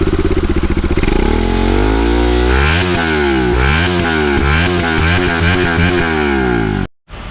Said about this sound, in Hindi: और एक बार आपको साउंड सुना देता हूँ मैं बाइक का